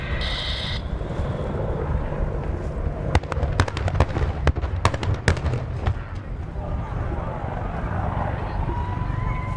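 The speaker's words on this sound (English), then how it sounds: "On recovery from the diving fire profile, delivering a successful rocket strike, Jim reacts dynamically to avoid any ground" Pyrotechnic rocket strike during an Apache gunship flying display at Duxford: a rapid cluster of sharp bangs and cracks over a few seconds, set against a steady, loud rumble, with a voice talking in the background.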